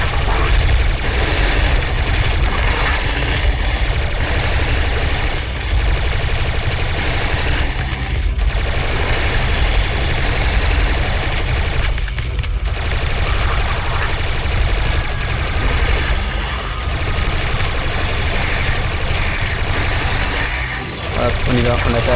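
Rapid gunfire bursts rattle almost without pause in the video game Tesla vs Lovecraft, a dense, loud, continuous barrage with brief dips, layered over heavy game noise.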